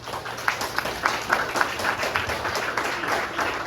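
Scattered hand claps ring out in a loose, uneven rhythm at a church service, a modest round of applause without talk.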